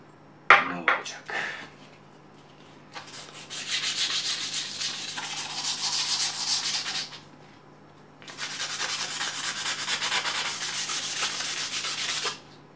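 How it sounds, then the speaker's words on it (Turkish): Sandpaper scrubs rust off a steel knife blade in two long steady bursts of gritty rubbing, close and loud, after a few brief clicks of handling. "Çok kısa sürede etki eden bir taş ama biz bunu gelin zımparayla tatbik edelim"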